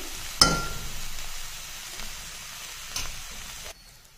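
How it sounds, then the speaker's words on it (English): Steady, soft sizzling of green masala potatoes frying in a pan, with a couple of faint clinks, ending abruptly into near silence. "So keep on frying."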